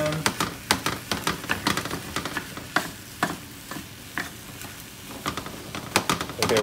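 Food sizzling in a hot pan as it is spread across the surface, with repeated scraping spatula strokes in an uneven rhythm and crackling close up.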